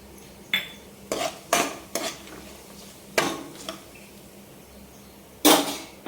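Spoon stirring cinnamon, cloves, cardamom, bay leaf, cashews and shahjeera in oil for flavoured rice, several sharp metallic clinks and scrapes against the pan spaced over a quiet background.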